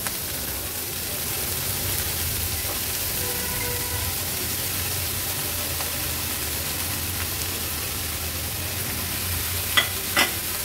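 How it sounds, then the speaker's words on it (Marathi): Chopped fenugreek leaves, garlic and green chillies sautéing in oil over a medium flame, a steady broadband sizzle with occasional stirring scrapes and faint clicks, close and continuous without talk. "अगदी मिनिटभरासाठी मेथी फक्त आपल्याला थोडीशी परतून घ्यायची आहे मीडियम फ्लेमवर"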